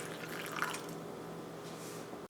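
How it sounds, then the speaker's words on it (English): Hot water poured from a freshly boiled kettle onto dried chili flakes in a bowl, a steady, close liquid splash and trickle lasting about two seconds with no talking. "you're going to boil some hot water, and you're going to add it to the chili flakes, just as such"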